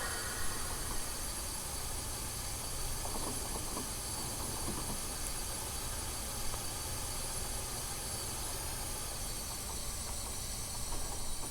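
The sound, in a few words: emergency air brakes on Empire State Express steam train, Train Simulator video game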